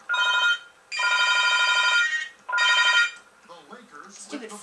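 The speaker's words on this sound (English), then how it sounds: "Stupid phone. Someone pick up my phone." A telephone bell rings in a room during an NBA 2K11 Celtics vs. Lakers game session, three long loud ring bursts, then a voice speaking faintly.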